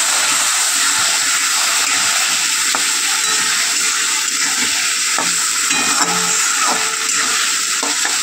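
Spices fry in a hot pan as the base for a cauliflower and bata fish curry, making a loud, continuous close-up sizzle and hiss with occasional light clinks of a stirring spoon, and no voices.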